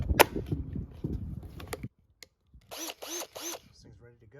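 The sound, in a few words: Bauer 20V Hypermax cordless drill running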